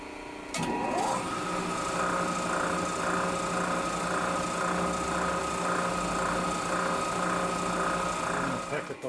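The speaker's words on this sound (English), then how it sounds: "So first we're going to center drill." A machine center drills a hole in metal, a steady high whirring drone with a faint pulsing rhythm that starts abruptly and runs continuously before cutting off at the end.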